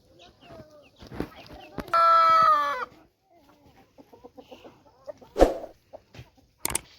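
Desi free-range village hens let out to graze make close, repeated clucks, with one loud, sustained crow in the middle and scattered sharper calls later.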